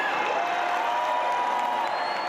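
An adoring crowd outside Buckingham Palace cheering and whooping for Queen Elizabeth on her balcony, a continuous loud roar of many voices heard from a distance.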